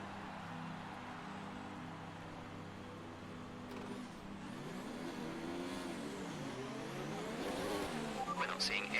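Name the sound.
F1 car engine revving at race start in video game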